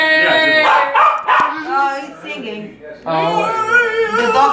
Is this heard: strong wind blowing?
no